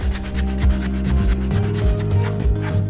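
A small delta sander with 80 grit sandpaper works a wooden knife handle, giving a close, steady rasping rub with rhythmic scraping strokes and low motor hum.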